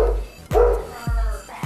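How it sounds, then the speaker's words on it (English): Several dogs bark in quick, loud bursts nearby, about three or four sharp barks with brief pauses between them and no talk. "Dogs are barking."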